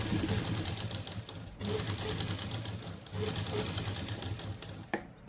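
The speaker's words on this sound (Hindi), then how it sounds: "और अब हम नेक को इसी की शेप में रख के यहाँ से मोटी सिलाई लगा लेंगे इस तरह से।" A sewing machine stitching the neckline of a suit with a thick basting stitch, running in fast steady bursts with brief pauses, close and fairly loud, ending with a faint click.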